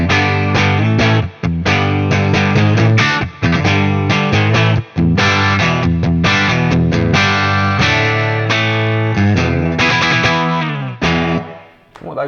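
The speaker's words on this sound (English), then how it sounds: "if I just play on the bridge pickup but a bit harder, it's gonna give me a nice range of tones" A Fender Player Series electric guitar is played harder on its bridge pickup through effects, producing loud, distorted chords and strummed riffs with a chorus-like shimmer, ringing out continuously with brief gaps between phrases.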